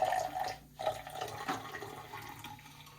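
Kvass is poured into a cup, giving a steady liquid splashing and gurgling that runs unbroken for a few seconds, close to the microphone.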